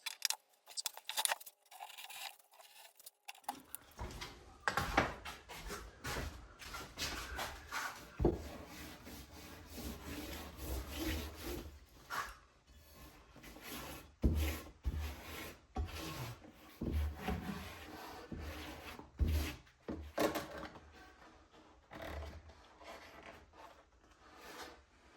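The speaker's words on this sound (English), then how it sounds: "this rubber mat cuts really good with a razor knife" A razor knife slices through a rubber mat on a workshop utility cart, giving a close, continuous rasping drag with rough uneven strokes that runs for most of the stretch after a brief quiet start.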